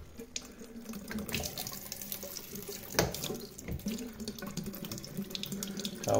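A household water tap runs at full pressure downstairs, a strong, steady rushing splash into a sink, close and continuous with brief surges, no one talking.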